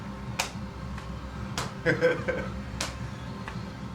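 Sharp single hand claps during qigong practice, struck one at a time at an uneven, unhurried pace, about five in a few seconds, close and crisp over a low voice and room hum.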